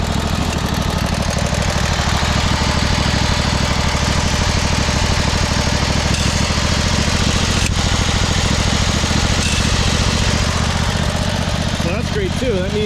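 A 1999 Craftsman lawn tractor engine runs loud and steady up close with its PTO-driven mower deck engaged, a constant throbbing drone with a faint voice speaking underneath and a brief rattle near the end.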